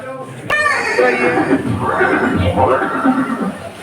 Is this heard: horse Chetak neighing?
yes